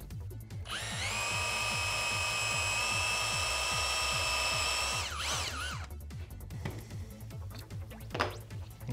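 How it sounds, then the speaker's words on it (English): A power drill whines steadily for about four seconds boring a 4mm hole in wood, then winds down, followed by light handling clatter and a brief knock. "And we'll find our mark and we'll drill our 4mm hole."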